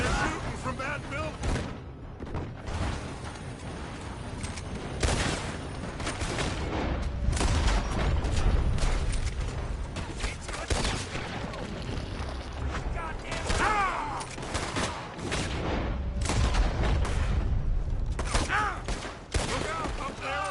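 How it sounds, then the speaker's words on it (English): Gunfire pours from a building during a Red Dead Redemption 2 shootout: a dense, sustained clatter of shots and bangs lasting throughout, mixed with creaks and mechanical noises, with voices talking over parts of it. "They're shooting from that building."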